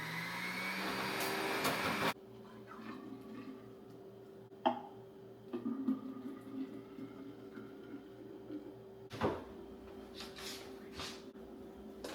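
An electric juicer processes pineapple with a loud, steady motor whir that cuts off abruptly after about two seconds, followed by quieter clicks and handling knocks.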